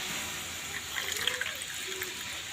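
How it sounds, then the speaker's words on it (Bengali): Water running from a tap as something is rinsed clean, a steady soft splashing flow with a few brighter gurgles partway through, close by and fairly quiet. "এই যে জল দিয়ে এটা ধুয়ে নেব"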